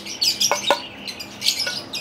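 Birds chirp and squawk in an aviary at feeding time, a busy cluster of close, sharp tweets and calls overlapping one another.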